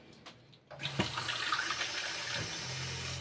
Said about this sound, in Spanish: Voy a agregar una taza de agua.